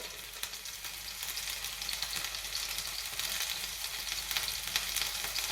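Spinach filling seasoned with pepper and ground cumin fries in a pan, giving a steady, close hiss and crackle that holds without a break and has no talk over it.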